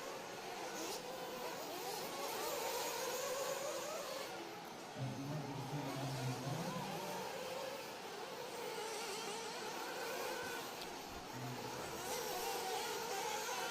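40-plus class nitro RC buggies race at a championship track, a continuous buzzing whine of small engines rising and falling as they pass, with crowd noise and an announcer's voice partly audible underneath.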